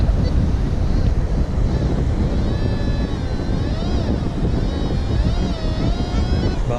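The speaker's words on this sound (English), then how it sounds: "it's super windy now" Strong wind gusts across the microphone on Jacksonville Beach, with loud, constant roaring buffeting and crashing surf underneath, while a bird calls faintly in the background.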